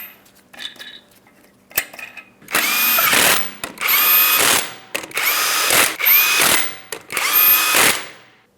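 A power tool whirring in five loud bursts with short pauses, running down 21mm lug nuts on a Ford Transit 250 rear wheel, close and alone with a few light metallic clinks in between.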